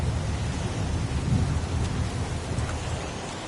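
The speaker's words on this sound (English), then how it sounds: "It's pouring rain." Steady pouring rain with low thunder rumbling underneath, a dense continuous wash of downpour heard close and loud with no voices.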